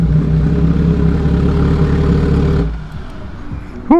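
A 2013 MV Agusta F4 sportbike engine drones loudly and steadily up close, then drops off sharply partway through to a lower, quieter idle-like rumble, with a short squeak at the very end.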